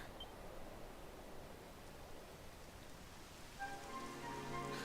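Steady rain in the video game Dragon Quest XI hisses evenly throughout, soft and diffuse, with faint tonal sounds joining near the end.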